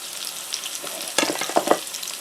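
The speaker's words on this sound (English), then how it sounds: "we'll let those start frying up." Food seasoned with salt and pepper sizzles and crackles in a hot cast iron pan, a steady close frying hiss with a few louder spits and a stirring scrape partway through.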